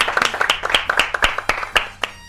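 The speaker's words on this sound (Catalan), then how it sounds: "Aplaudíssiu vosaltres" Audience applause from a crowd at a Valencian falla contest, a run of sharp, irregular hand claps, fairly close and steady for the whole stretch, with no talk over it.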